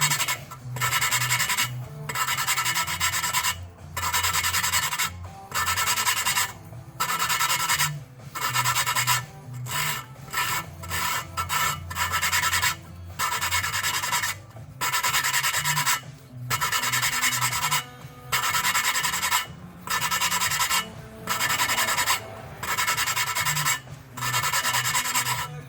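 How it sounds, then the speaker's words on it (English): A valve being lapped by hand with lapping compound, heard as a loud, close, gritty rasping rub that repeats in steady back-and-forth strokes broken by brief pauses, with no voices. "Best way I could describe this valve lapping compound is it's like liquid sandpaper"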